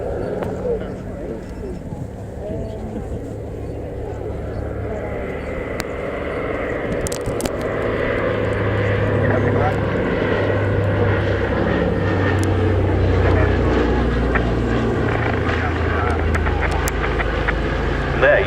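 A Catalina flying boat displays in the rain at the 2017 Scampton Airshow, its piston engines droning steadily and swelling as it orbits, heard over a commentator speaking on the public address.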